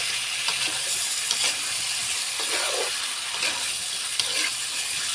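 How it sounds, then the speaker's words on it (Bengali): Stuffed pointed gourd with fried potatoes sizzling in a pan, with soft scraping and stirring sounds coming and going over a constant bright hiss, no talking. "আমি সঙ্গে আলু ভেজে রেখেছিলাম, সেটাও দিব। সুন্দর করে আমি একটু কষাই নেব।"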